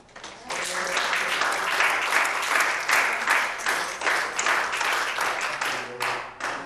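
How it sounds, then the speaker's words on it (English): Congregation clapping hands at a church revival service, a burst of rhythmic clapping with audible accents that swells, holds, then trails off, with some voices mixed in. "Clap your hands to God."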